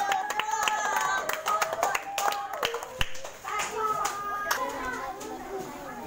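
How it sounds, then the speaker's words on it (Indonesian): Classroom of Year 3 pupils clapping for a classmate, a loose burst of handclaps mixed with children's chatter and a teacher's voice, with scattered taps through the middle of the clip. "Bagi tepukan kat Daniel."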